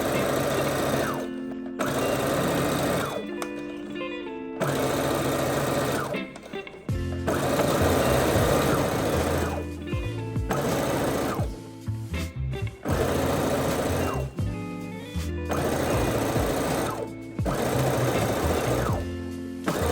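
A sewing machine stitches fabric in steady, close whirring runs, pausing briefly between seams as a beginner folds the material and sews a line all the way down.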